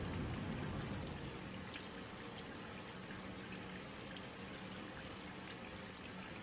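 Running water from a tap during a surgical hand scrub, a soft, continuous spattering flow that stays even and fairly faint throughout, with no talking.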